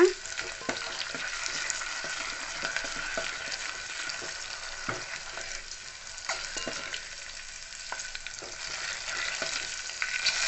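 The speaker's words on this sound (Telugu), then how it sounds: "గింజలు రెడ్ అయిపోతే సరిపోతుందండి మాడిపోకూడదనమాట తాలింపు గింజలు జీలకర్ర కూడా ఎక్కువ వేసుకోండి" Tempering seeds and cumin fry in hot oil in a pan, with a continuous close sizzle broken by scattered pops and light stirring scrapes, and no one speaking.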